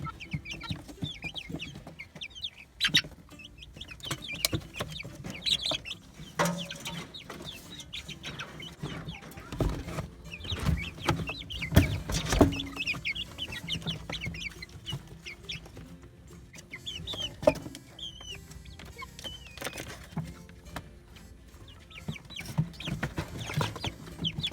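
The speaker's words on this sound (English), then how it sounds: "show you a little bit of what I have going on with my chicken flock" A backyard chicken flock with hens and roosters clucks and murmurs steadily in the chicken yard, with scattered louder squawks and rustling close by over a long stretch.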